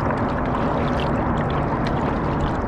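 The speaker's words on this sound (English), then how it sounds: "So here I am, doing a little paddling this morning." A big Bluecat Leader kayak is paddled across open water, giving a continuous close wash of splashing and rushing water with no talking.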